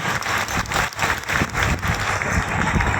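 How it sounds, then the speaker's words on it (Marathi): A crowd at a public event in Jafrabad applauding, dense clapping that rises and dips in waves, loud and sustained for the whole stretch. "महाराणी जरंग पाटील या ठिकाणी येतात आपण टाळ्या बाजून"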